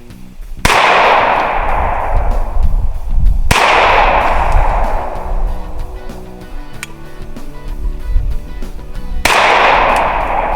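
A Chiappa 1911-22 pistol fired at a 10-yard target, three sharp loud reports spaced a few seconds apart, each ringing off into a long noisy echo that fades slowly.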